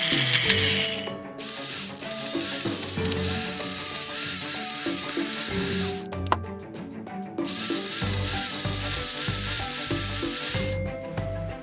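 A Play-Doh Drill 'n Fill toy dentist drill is cranked by hand, producing loud, rapid plastic ratcheting clicks in long continuous bursts, broken by two brief pauses.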